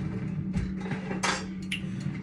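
Fork clinking lightly against a dish while eggs are prepared for cheesy eggs, a few quick faint taps and clinks over a low kitchen hum.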